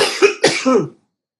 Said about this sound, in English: what's happening with the coughing right now?